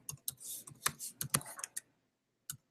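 Fast bursts of clattering keystrokes on a computer keyboard at a podium, close and fairly quiet, an irregular flurry of taps followed by a pause and one last isolated key press.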